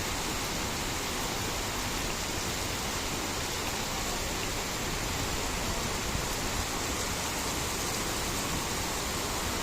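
Heavy rain with big drops pours down outside on a street, a dense, constant roaring hiss with no pauses, loud and close.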